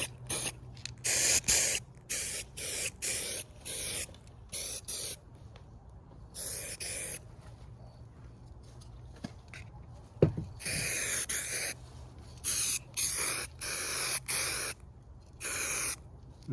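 A spray can hisses in a series of short, close bursts separated by quiet pauses, laying a light tack coat of paint on a tail light bezel from a 1978 Datsun 280Z.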